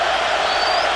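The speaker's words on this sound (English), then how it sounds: "Crowds into it." Crowd noise at a college football game in a stadium, Tennessee at Georgia, a dense, loud, continuous roar of cheering filling a brief moment.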